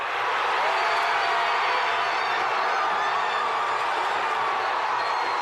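A large crowd gathered outdoors roars after a hockey goal, producing a dense, continuous wash of cheering voices at steady high volume for several seconds.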